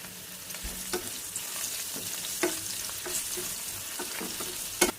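Garlic and onion frying in hot oil in a home kitchen make a soft, steady sizzle, broken by occasional scrapes and clacks of stirring, heard close and fairly quiet.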